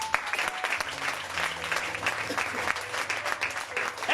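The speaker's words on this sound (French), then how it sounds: "Là, vous acclamez comme ça." A church audience applauds steadily and densely throughout, a continuous mass of clapping hands with no pauses and faint voices mixed in.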